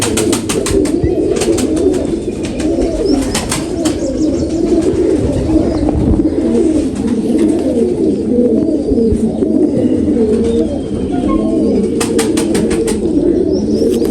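Racing pigeons coo in low, rolling murmurs close by, with bursts of wing flapping and faint chirps mixed in.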